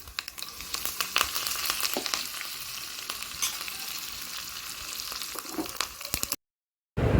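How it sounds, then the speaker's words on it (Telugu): Mustard seeds, curry leaves and dried chillies sizzle in hot oil with dense crackling and popping, close and steady, before cutting to a brief silence near the end. "ఆవాలు కరివేపాకు ఎండుమిరగాయలు అయితే ఆయిల్లో వేసాను"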